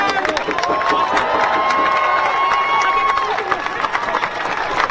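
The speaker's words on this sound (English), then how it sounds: "All right, let's give him a shout, another round of applause." A rally crowd cheering and clapping for a speaker at a justice solidarity rally, with shouts and whoops over steady applause and a sustained tone running through.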